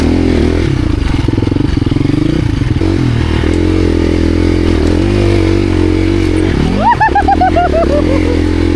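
Dual sport motorcycle on an off-road backcountry trail, engine running steadily up close, then a brief clattering scrape and a quick throttle blip as the heavy bike tips and is caught and held upright.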